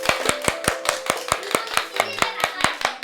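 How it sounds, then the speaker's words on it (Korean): Elementary school children in a classroom clap in a quick, even rhythm of sharp, close hand claps, roughly five per second, with faint voices murmuring underneath. "오, 박수!"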